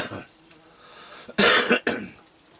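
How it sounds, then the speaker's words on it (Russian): A man sick for days with a lingering cough lets out a loud burst of coughing partway through, with a second shorter cough just after, heard close up at a hut during hot, stormy weather. "Кашель все еще не прошел."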